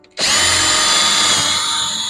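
A power drill starts abruptly and bores through a 2x4 with a loud, steady high whine that continues close up until the end.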